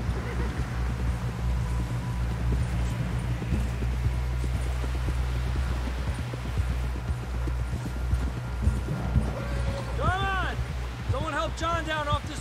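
Horse hooves clip-clop steadily on the ground in the Red Dead Redemption 2 video game, a rhythmic gait beneath a continuous low hum, with a horse whinnying near the end and voices talking over it.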